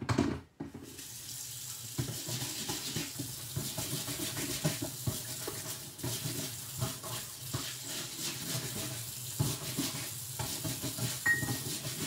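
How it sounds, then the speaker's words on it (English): A paintbrush swishes and rinses in a container of water, with continuous splashing and sloshing close by, steady and fairly loud, broken by a few brief clinks. "Let me throw that in some water."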